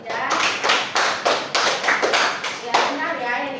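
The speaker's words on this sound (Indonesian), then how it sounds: "Berikan tepuk tangan dulu untuk Jidan." A classroom gives a student a round of applause, several quick, loud bursts of hand clapping in an uneven rhythm, close by, with a voice talking alongside.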